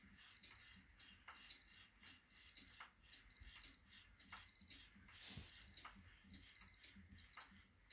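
A Digi-Tech calculator watch alarm beeps in rapid clusters of high, thin tones, repeating steadily about every second; faint and close, with no talking.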